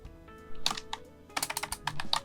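Keys tapped on a computer keyboard in short, irregular bursts of quick clicks, close and fairly quiet, with brief pauses between runs.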